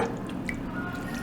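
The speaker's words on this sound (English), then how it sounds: "And then you're throwing in the water that the shrimp defrosted in so that the sauce can have the shrimp flavor" Water left from thawing shrimp drips and squishes into a plantain sauce, making soft, close liquid sounds with a brief louder splash at the end.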